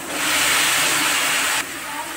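Amaranth leaves (thotakura) hitting a hot pan, a loud dense hiss of steam and sizzle that drops off sharply partway through and settles into a quieter fizz.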